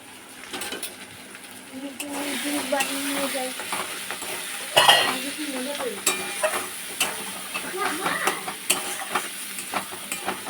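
Turmeric, coriander and Kashmiri chilli powder sizzle steadily in a hot pan while a utensil stirs and scrapes, with occasional sharp clinks. A voice talks over the frying.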